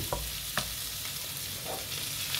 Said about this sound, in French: On remue tout.